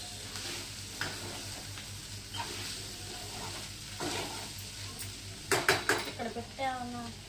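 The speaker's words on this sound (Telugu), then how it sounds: "ఫ్రై అవుతుంది దొండకాయ" Ivy gourd (dondakaya) frying in a pan for an Andhra-style dondakaya and coconut fry, with a low sizzle under repeated clinks and scrapes of a utensil against the pan, busier toward the end.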